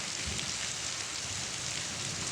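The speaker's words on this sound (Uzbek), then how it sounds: "Juda qattiq yog'yapti yomg'ir." Heavy rain pours down in Buvayda district of Fergana region, a dense, loud, unbroken hiss of water across roofs and surfaces with no voices, steady throughout.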